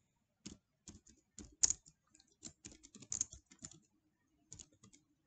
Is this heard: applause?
no